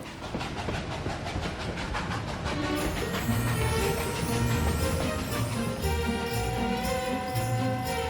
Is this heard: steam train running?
yes